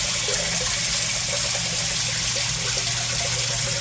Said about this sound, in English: So that's how your sump pump, in this case a lift station pump, works.